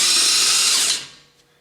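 A loud, close impact wrench runs steadily on a Volvo XC90's control arm bolts, a dense high whirr lasting nearly a second before it cuts off and fades into quiet.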